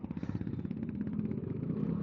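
A Yamaha Mio i 125 scooter engine idling smoothly close by, a fast, even putter with a steady low drone and no talk over it.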